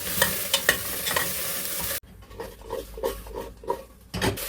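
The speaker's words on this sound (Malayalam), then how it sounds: "ഈ സാമ്പാർ ശരിയാക്കാനായി ഇതിലേക്ക് ഒരു അല്പം വെളിച്ചെണ്ണ ഒഴിച്ച് ഇതൊന്ന് വഴറ്റിയെടുക്കാം." Vegetables sautéing in coconut oil for sambar, a steady close sizzle with a spoon stirring and scraping through the pan, the tone shifting midway as the pieces are turned.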